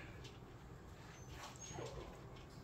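Dog whimpering faintly while eating treats, soft whines and yips close by under steady background noise.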